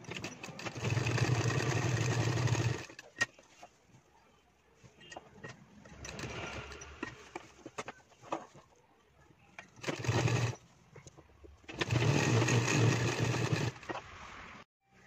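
A sewing machine runs in several bursts while stitching a women's shirt collar, with quiet handling noises and pauses between the loud, steady whirring runs.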